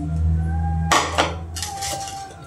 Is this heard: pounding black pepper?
yes